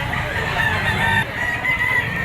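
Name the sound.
rooster crowing at Lipa auction market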